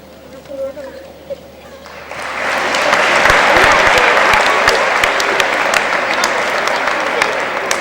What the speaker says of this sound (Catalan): rebem amb un fort aplaudiment a un nou festers